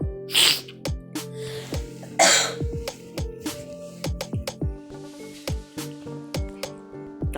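Bhature dough frying in hot oil, with steady crackling, bubbling and sharp popping spatters up close, plus two louder hissing sizzles as dough drops into the pan.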